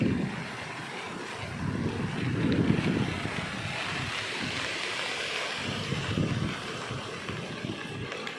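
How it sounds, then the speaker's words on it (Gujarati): Flood-swollen river water rushes past in the rain, a steady broad roar mixed with gusts of wind buffeting the microphone, fairly faint and continuous with no voices. "પાણી જાય છે જોરદારનું"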